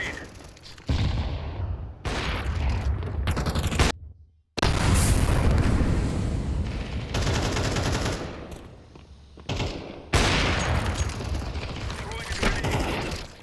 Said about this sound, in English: Throwing a grenade.